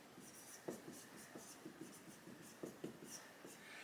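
A pen scratches words onto paper by hand, quiet, close strokes in short irregular bursts with brief pauses, and no talk.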